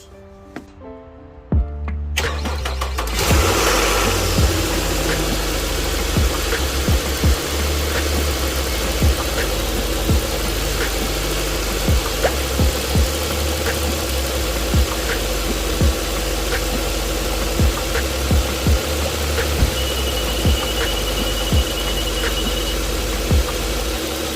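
A Nissan Maxima 3.5 V6 starts and settles into a steady, loud idle with a regular low rumble and faint ticking, running alone after coolant bleeding following an alternator replacement.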